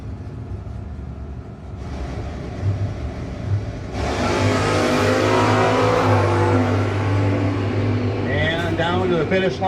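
Drag race cars at a no-box 660 shootout, including an Oldsmobile G-Body, roar as they accelerate toward the finish line, with engine noise growing loud and steady while an announcer talks over it.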